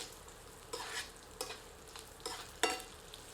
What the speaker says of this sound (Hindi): अब इसमें स्वादानुसार 5 से 6 साबुत लाल मिर्च सम्मिलित कर पुनः कुछ क्षण भून लेते हैं।